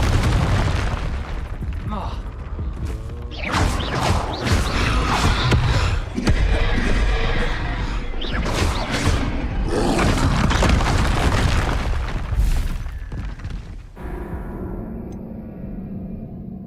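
Confringo explosion spells cast in Hogwarts Legacy alongside Expelliarmus: repeated loud booms and bursts crowd a dense, busy battle soundscape for most of the stretch, then fade to a quieter ambience near the end.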